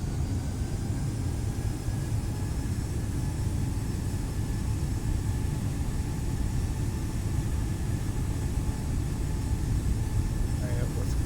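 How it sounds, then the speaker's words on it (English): Takeoff roll of an Airbus A319 in Microsoft Flight Simulator, departing Milwaukee: a steady, loud jet engine roar with a dense low rumble that holds evenly throughout, with a voice speaking over it. "we'll just start our takeoff from that line"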